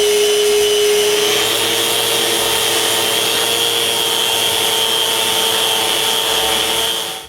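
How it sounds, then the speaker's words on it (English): A power sander smooths a wooden lid glued with epoxy, a steady close whirring hum with a faint high tone, running continuously and alone before cutting off at the end. "Because of the epoxy, I smooth the other one with the sander."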